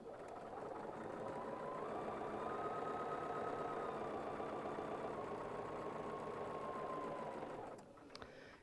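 Sewing machine stitching quilt squares together: a steady, fast mechanical whir runs for about eight seconds at an even pace, then stops, leaving a brief clatter near the end; quiet and close, with no voices.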